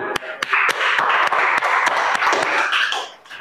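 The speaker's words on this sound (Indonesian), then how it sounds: "Beri tepuk tangan." Classroom students clapping after a group presentation, a loose scatter of sharp individual claps over a dense patter of applause that tapers off at the end.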